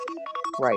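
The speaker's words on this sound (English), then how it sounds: "I heard your phone ring" A phone rings with a short, bright electronic ringtone, repeated tonal pulses rising into a warbling burst, close and fairly loud, with a brief spoken word over it.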